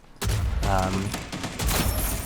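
Sniper rifle shots from the Rogue Company video game crack loudly in quick succession, with a voice talking in the background.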